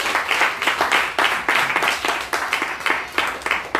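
A church congregation clapping hands together in a brisk, steady rhythm, many palms striking at once in repeated loud bursts, close and continuous throughout with no pauses.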